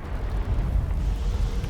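Explosions in a Guild Wars 2 game scene rumble as a deep, steady low roar at moderate loudness, alone with no speech.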